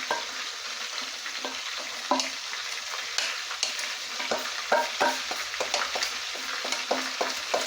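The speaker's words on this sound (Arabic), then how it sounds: "فانا غادي نضيف بصله، درت 2 بصلات مواسطين مع هذه بالنسبه للتقليه" Two medium onions sizzle and crackle steadily in a hot pan, with repeated sharp clicks and scrapes of stirring throughout, close and clear with no talking.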